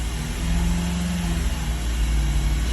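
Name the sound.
car engine revving with a misfire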